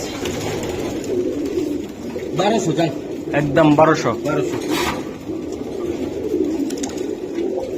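Giribaz Chila pigeons in a seller's loft coo in a few close, repeated bursts while someone talks over them.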